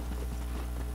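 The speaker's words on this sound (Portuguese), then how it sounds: "Tô correndo com o cavalo aqui" A horse gallops in Red Dead Redemption Online, giving a quick run of rhythmic clip-clop hoofbeats over a steady low background hum, with no talking.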